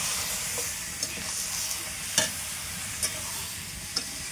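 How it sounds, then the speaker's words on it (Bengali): Chicken pakoras frying in oil over a wood-fired stove, a steady close sizzle with a few sharp crackles and spatters popping out at irregular moments. "আর তারপরে দেখো আস্তে আস্তে চিকেন পাকোড়াগুলো ভেজে নিচ্ছি।"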